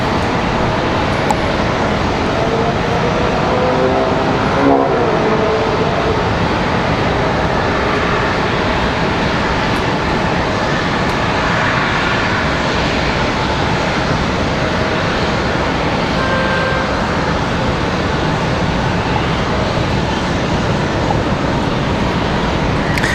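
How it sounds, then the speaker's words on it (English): Airliner noise at RDU airport, including an Airbus A319 in Lynx livery, a broad steady roar from engines and airport traffic that holds throughout. "As you can see, that A319, and I think that's Junior, the Lynx livery right there"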